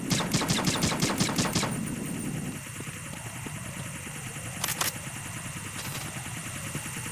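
Sustained automatic machine gun fire from Metal Gear Solid 2: Sons of Liberty, rapid bursts loud at first, then a steadier rattling barrage with occasional sharper cracks, accompanied by a low engine-like drone.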